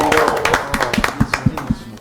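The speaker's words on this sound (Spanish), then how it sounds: "Vamos a aplaudir a don Humberto Remache" Audience applause for Don Humberto Remache at a show, a few hands clapping in a loose, uneven rhythm, close and moderate, starting under a voice that fades as the claps take over.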